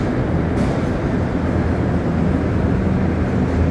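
An MR-73 metro train arriving at Angrignon station, a steady loud rumble and rolling roar held close and continuous, with no talk.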